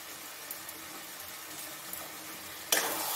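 Ghee and spices sizzle softly and steadily in a pan with bottle gourd and shrimp, with a quiet hiss throughout, then a sudden louder crackle near the end.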